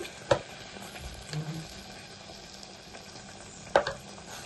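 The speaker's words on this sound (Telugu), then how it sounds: "నెయ్యి వేసుకొని కలుపుకుందాం" Lentil and jaggery mixture with ghee stirred in a pot while cooking burelu, giving a soft, faint scraping with two sharper spoon knocks against the pan and low simmering underneath.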